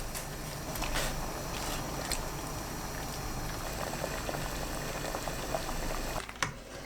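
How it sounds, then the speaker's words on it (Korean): Steady bubbling of water with vinegar and sliced lotus root at a rolling boil, continuous and close, with a brief clatter near the end. "끓는 물에 식초 2큰술, 연근 넣고 5분 익힙니다."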